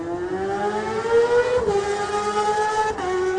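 Connor Cummins' race motorcycle pulls away at the Isle of Man TT Supersport race, a loud rising engine wail climbing steadily through the gears, with brief dips at each upshift, dominating without any talk.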